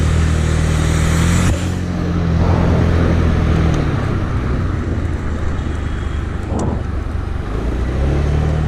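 A Honda Dio scooter riding downhill gives a steady, close engine drone with heavy wind rush over the microphone, continuous throughout with no voices.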